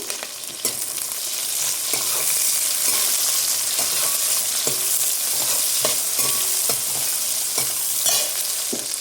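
Onions and green chillies with shahjeera fry in a pan for bagara rice, a steady loud sizzle with repeated scraping stirs of a spoon throughout, no voices.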